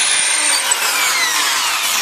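A power drill bores through wood in a carpentry shop, drilling a hole for a screw fitting; a steady, close, high-pitched whirring grind runs unbroken for about two seconds with no voices.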